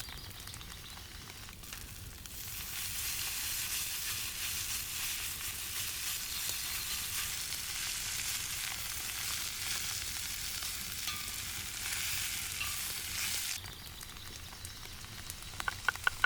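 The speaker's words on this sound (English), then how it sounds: "When the onions are done, we add the chanterelle. We want to sear them until they get a nice brown color." Chanterelle mushrooms sear with onions in a hot pan, a steady broadband sizzle that swells after a couple of seconds and holds, easing toward the end where a few sharp clicks of stirring come through.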